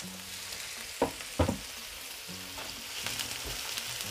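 Chopped garlic and onion sauté over medium heat in a pan, giving a steady soft sizzle with a few sharp spatula clinks and stirring scrapes close by.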